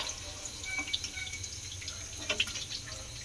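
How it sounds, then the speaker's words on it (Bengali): Fried paneer pieces going into cold water, heard as faint, scattered drips and small watery splashes over a steady background hiss, close by with no talking. "এবারে আমি এগুলোকে তুলে নিয়ে ঠান্ডা জলের মধ্যে দিয়ে দেবো"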